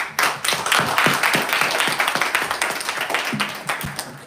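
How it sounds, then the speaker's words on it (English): Applause from a lecture audience at an AI and physics hackathon talk, a dense run of claps lasting a few seconds and tapering off toward the end. "with a warm round of applause"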